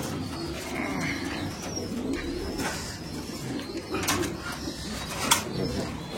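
Pigeons, including a small, restless female, coo softly and repeatedly in low throaty phrases, fairly faint against a busy background with brief scuffs and muffled voices.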